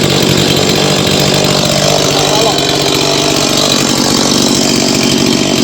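A chainsaw engine runs loud and close, a continuous rough buzzing drone with a rapid rhythmic pulse, a voice talking over it.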